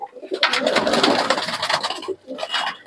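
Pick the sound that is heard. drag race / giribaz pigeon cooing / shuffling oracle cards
giribaz pigeon cooing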